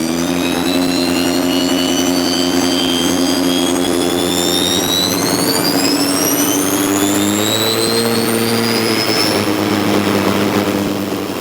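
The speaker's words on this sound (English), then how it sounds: "The only car in hill climbing to feature an onboard gas turbine" Manic BT hill climb racing car powered by an onboard helicopter gas turbine at Gurston Down, giving a loud, continuous high-pitched turbine whine that climbs steadily in pitch over a deep roar, with no voices.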